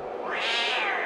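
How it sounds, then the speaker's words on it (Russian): A single drawn-out cat meow, loud and close, rising and then falling in pitch over about a second, heard alone with no talking. "Это кошка, это все кошка."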